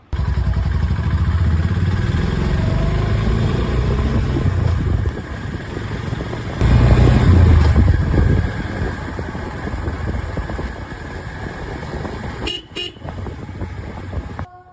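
A Honda CB350C motorcycle ridden at night gives a steady, close engine drone with road rumble throughout, a louder surge partway through and short horn toots near the end.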